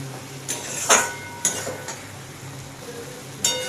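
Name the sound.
stirring apple pickle cooking in a pan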